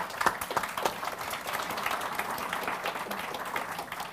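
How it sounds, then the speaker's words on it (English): An audience at a loan seminar claps for a panel at the close of a session, a short burst of steady clapping from a seated crowd that rises sharply at first and holds evenly. "perhaps we can give them a quick round of applause"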